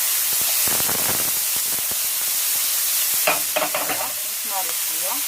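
Food fries in hot oil in a pan with a loud, steady hissing sizzle and bursts of crackle. Brief tonal scraping sounds appear near the end.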